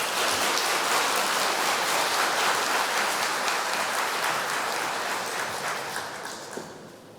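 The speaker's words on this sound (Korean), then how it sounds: "박수하겠습니다." A church congregation applauds together during a Sunday service, a dense, continuous patter of many hands that holds strong and then gradually tapers off toward the end.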